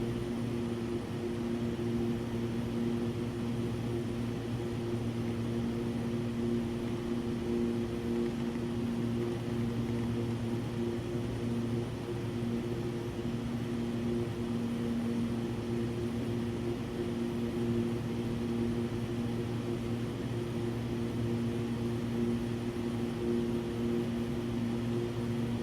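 Steady, droning propeller engine of a Lancair EVO in the X-Plane 12 flight simulator, a constant hum with strong tonal layers and no change in pitch or loudness throughout.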